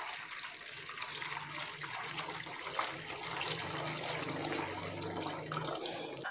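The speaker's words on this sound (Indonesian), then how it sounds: "Oke, saya tambahkan dulu ya airnya ya." Water being poured into a container beside a gas stove, a steady, quiet, continuous gushing and splashing that lasts several seconds with no speech over it.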